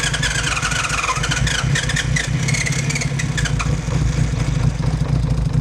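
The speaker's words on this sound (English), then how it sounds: "Takes a little while for all 6 cylinders to kick in and the fuel to go through" A 1980 Honda CBX1000 six-cylinder motorcycle engine runs close and steady at idle, a continuous low rumble with a slightly uneven beat as it settles after starting.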